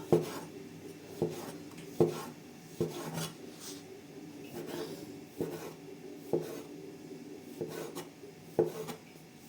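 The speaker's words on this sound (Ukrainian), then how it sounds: "Хто любить дуже дрібненько, може різати дрібненько. Я середньо ріжу." A knife slices rolled homemade noodle dough on a board, made for noodles in chicken broth. About a dozen evenly spaced, muted thuds and scrapes come from close by, with no talk.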